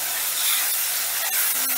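Ground ginger, green chili and tomato paste hit hot oil in a pan, giving a steady, close sizzling hiss with a few brief spitting bursts near the end.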